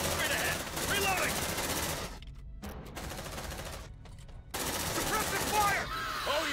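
Rapid automatic gunfire from the sci-fi video game Aliens: Dark Descent, loud bursts that rattle on and cut off abruptly between volleys, with game voices heard alongside.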